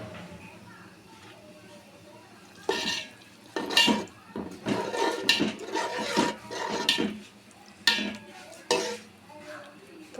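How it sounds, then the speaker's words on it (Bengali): Meat being stirred into a pot of haleem broth in a home kitchen, with scattered scraping and clanking of a spoon against the pot, close and intermittent after a quiet start. "এখন দিয়ে দিব গোস্তগুলা দিয়ে তারপরে ভালো করে নাড়াচাড়া করে ডেকে দিব"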